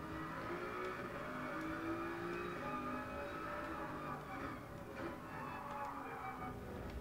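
A car engine in a driving video game holds a steady, moderately loud drone with slight rises in pitch, continuous for the whole stretch, with no talking over it.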